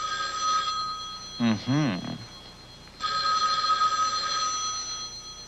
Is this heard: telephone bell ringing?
yes